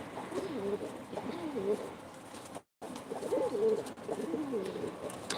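Pigeons at a live auction in Ankara give repeated soft, throaty coos in short phrases, close and clear, with a brief gap midway and faint room noise.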